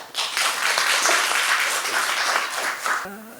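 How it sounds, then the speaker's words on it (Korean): A seated audience at a Korean public vision-proclamation ceremony gives a warm round of applause to welcome the speaker, a steady, even wash of clapping that fades out after about three seconds, followed by a hint of voice. "큰 박수로 맞이해 주시기 바랍니다"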